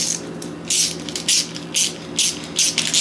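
A ratchet wrench tightens a fuel line fitting on a Factory Five Mark 4 Roadster, giving several close bursts of rapid metallic clicking with short pauses between them and no talk.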